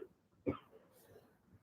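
A single short, sharp cough close to the microphone, then quiet breathing and faint room noise.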